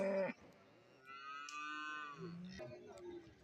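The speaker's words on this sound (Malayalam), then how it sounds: "നല്ല വലിയ പോത്തുകളും ചെറിയ വളർത്തുകുട്ടികളും എല്ലാം ഈ ഭാഗത്ത് നിൽപ്പുണ്ട്" Cattle and buffaloes at a cattle market low loudly and up close, with a short call at the start and a long, drawn-out moo after it. Faint crowd noise runs underneath.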